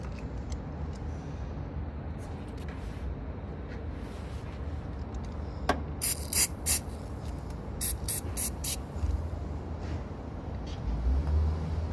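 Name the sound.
spraying battery terminal cleaner spray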